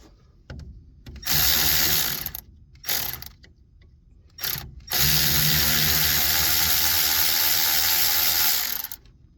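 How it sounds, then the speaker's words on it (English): Battery-powered Milwaukee ratchet tightening fasteners on car brakes during a disc brake conversion on a 1954 Mercury Monterey, several loud close bursts of rapid whirring mechanical buzz, short ones first, then one long sustained run. "You may not have a battery powered Milwaukee ratchet, but I'm going to try to speed things up here a little bit."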